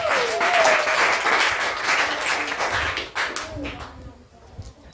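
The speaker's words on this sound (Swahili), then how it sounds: "Pia Yesu makofi." A church congregation applauds for Jesus during a service, loud dense clapping with voices mixed in, tapering off after about three seconds into quieter scattered claps.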